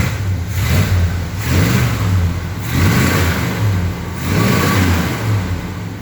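Engine of a 1978 GMC truck, fed weed eater gas through the carburetor, revving in three or four loud, close surges that rise and fall over a steady low rumble, with no talking.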